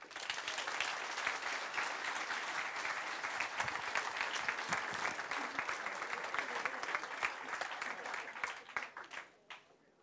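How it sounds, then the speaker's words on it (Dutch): Warm, sustained applause from an audience at a ceremony handing over a care plan to the new owners of De Sionsberg, steady dense clapping for about eight seconds before thinning out and fading. "Een heel hartelijk applaus voor deze mensen."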